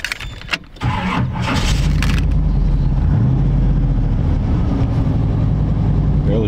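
A 1940 Ford Custom Coupe with a GM 383 engine starting up: a short cranking whir, then the engine catches and settles into a loud, steady, deep idle close by.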